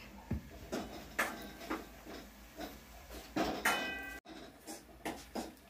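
Nutmeg is grated by hand for traditional broken wheat kheer, giving faint, close, irregular scraping strokes with short bursts and pauses, alone with no voices.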